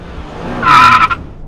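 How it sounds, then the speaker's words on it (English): A racing car's tyres skid with a single sharp, loud screech that lasts about half a second, heard alone over a faint background. "As the car raced through deepest, darkest Crouch End"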